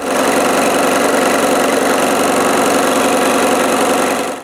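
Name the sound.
saw cutting wood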